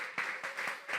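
A church congregation claps in a few distinct, fairly regular bursts, soft and somewhat distant, with no voices over the clapping.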